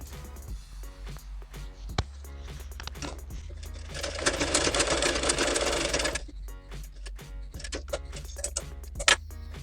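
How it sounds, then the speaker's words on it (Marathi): Sewing machine stitching a blouse back neck piece with lining, its rapid mechanical whir running steadily for about two seconds in the middle, framed by soft ticks and handling clicks of fabric work. "तसंच आपण मुंडाही शिवून घेऊया तसाच अस्तर लावून"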